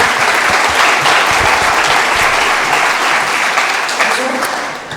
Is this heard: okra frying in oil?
no